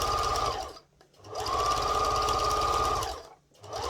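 A sewing machine drives a stitching line around a piped cushion cover, its motor humming and needle chattering in two long loud runs separated by a brief pause.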